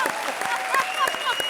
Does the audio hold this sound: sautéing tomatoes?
no